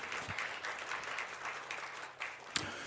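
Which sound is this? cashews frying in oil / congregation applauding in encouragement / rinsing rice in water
congregation applauding in encouragement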